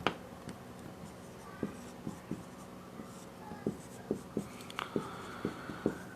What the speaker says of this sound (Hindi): तो हम लिखेंगे अस्थायित्व, अस्थायित्व